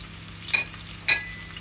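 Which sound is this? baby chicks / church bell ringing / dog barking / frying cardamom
frying cardamom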